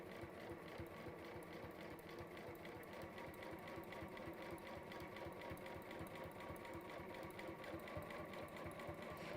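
A sewing machine runs a long stitch, its rapid, even mechanical chatter continuing steadily throughout at moderate level, close by with no talking.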